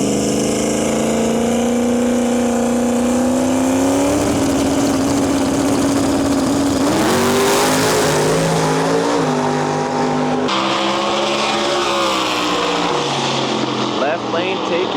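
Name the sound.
drag race cars launching down the racetrack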